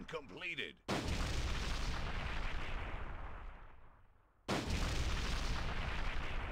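Booming artillery fire in the real-time strategy game Enemy Nations, a dense roar of loud blasts that swells, fades briefly and returns at full strength, with a short voiced sound at the very start.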